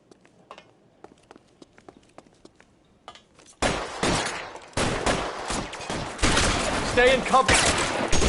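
Bursts of gunfire in a shootout in the game L.A. Noire: sparse clicks and steps give way to loud, dense volleys of shots that continue to the end, with a brief spoken line in between.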